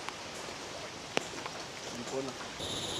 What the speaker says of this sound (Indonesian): Kabut sudah mulai turun, hujan juga,